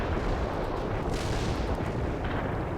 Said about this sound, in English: Coordinates artillery strike on the way. Commencing the barrage.